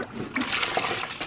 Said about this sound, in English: Then I'm gonna get some water in there.